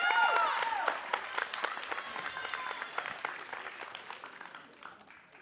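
An audience applauds candidates at a school event, starting with a loud burst of clapping and cheering that gradually fades and thins out toward the end.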